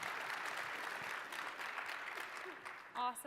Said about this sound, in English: So give them a round of applause and enjoy the session.